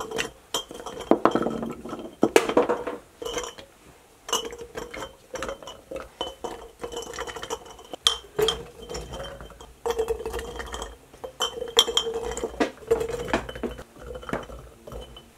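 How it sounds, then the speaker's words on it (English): Glass quart canning jars knock and clink together inside a canner as seven are loaded for a batch of carrots, giving sharp, irregular chinks and rattles scattered across the stretch with some metallic clatter. "7 quart jars in my canner at a time."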